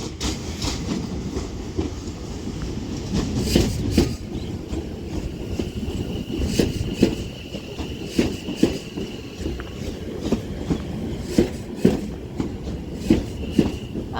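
A West Midlands Railway class 730 electric train pulls into Four Oaks station, its wheels giving a steady rolling rumble with repeated clickety-clack rail joints and a faint high whine, heard from the platform without speech.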